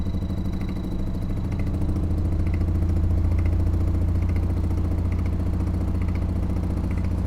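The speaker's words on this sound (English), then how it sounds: "You can hear the torque of the motor shaking the whole table." An attraction motor without magnets drives a fan as it spins up, a steady close mechanical hum and low rumble with faint rhythmic ticking and clatter, the vibration shaking the table beneath it.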